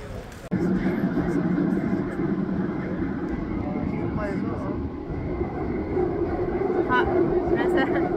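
A train rides through Paris near Saint-Denis with a steady, close rumble inside the carriage, while people talk over the noise throughout.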